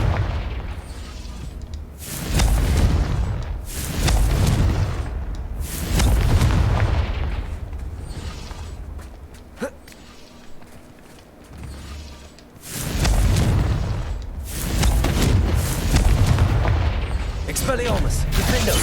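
Confringo blasting spells from a Harry Potter video game go off as several deep, booming explosions that swell and fade in long bursts, with a short lull in the middle, loud and close.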